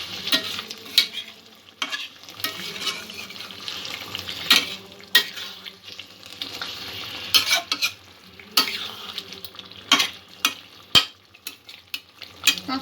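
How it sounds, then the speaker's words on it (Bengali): Aloo palak, a potato and spinach curry with a little water added, sizzles and bubbles in a pan, broken by frequent scraping strokes of stirring throughout, with no talk. "পাঁচ 7 মিনিট এই কারিটা আমি ফুটিয়ে নেব"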